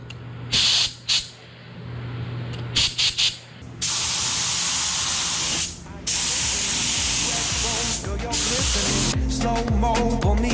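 Spray gun laying a final coat of paint on a Chevy Silverado pickup in hot weather, heard as repeated loud hissing bursts with short gaps between passes, close to the listener and fairly steady through the clip.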